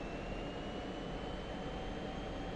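A steady jet engine hums in a DCS World flight simulator F-16 while flying in formation beside a Russian plane. The drone is constant and moderately faint, with a thin high whine over it and no speech.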